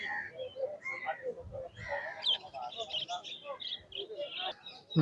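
Several pigeons coo and birds chirp in a busy pigeon market in Khalishpur, Khulna, overlapping calls near and far with human voices mixed in.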